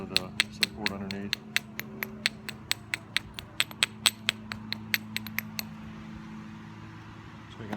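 A hammerstone strikes flint in direct percussion knapping, giving a long run of sharp, close, evenly spaced clicking taps, about a dozen in quick succession, with a faint voice early on.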